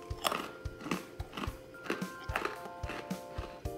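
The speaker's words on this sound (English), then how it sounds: "Let's go with a big piece for that crunch and flavor." Repeated crisp bites and crunching chews on big broken pretzel pieces flavored with caramelized onion, sweetness and mustard, close and fairly loud in a steady rhythm of sharp cracks.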